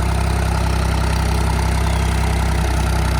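A 3630 Super tractor's steady, low diesel engine idles close by, a constant rumbling drone with no breaks and no voices.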